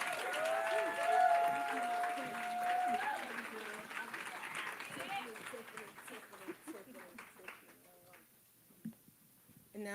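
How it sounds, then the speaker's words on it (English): An audience at a women's empowerment brunch applauds as guests leave the stage. The clapping is fairly faint and thins out toward the end, under a sustained tone and a voice speaking over it. "a round of applause?"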